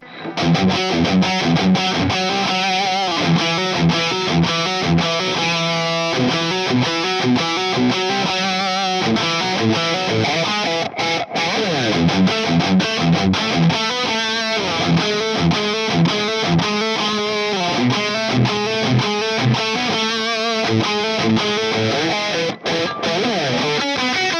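Electric guitar through a Marshall DSL100 tube amp with overdrive and reverb plays a continuous run of chords and riffs, loud and gritty, with no voices.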